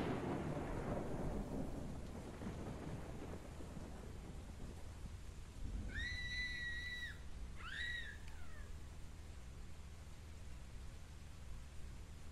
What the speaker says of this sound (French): Petit orage.